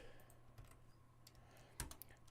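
Keys clack on a computer keyboard in short, irregular bursts, quiet and close, with a sharper cluster of strokes near the end and no talking.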